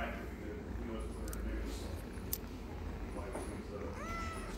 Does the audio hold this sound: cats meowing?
yes